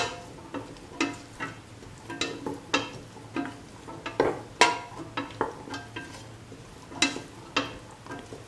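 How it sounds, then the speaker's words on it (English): Garam masala is being stirred into a scrambled egg and cauliflower stir fry, with a spatula scraping the pan in a steady series of close strokes over a soft background sizzle. "Mix the garam masala with the rest of the mixture."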